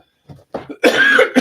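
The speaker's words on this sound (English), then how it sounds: "Excuse me for coughing." A short burst of coughing close up: two small throat catches followed by a loud, harsh cough.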